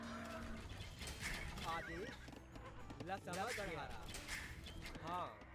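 Horse neighing from the Age of Empires 2 game, several whinnies with clear rising and falling calls layered over steady battle noise and game sounds.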